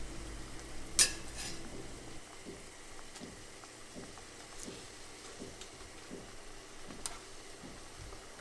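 Beef stock and seared steaks stirred in a frying pan, with a sharp metallic clink early on, then soft scraping and a low, steady simmering sizzle with occasional light taps.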